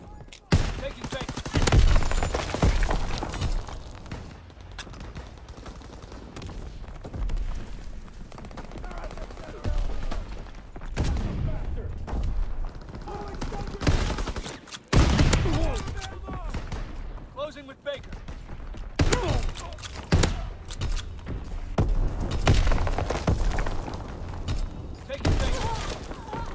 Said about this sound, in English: Enemy artillery! Get to cover!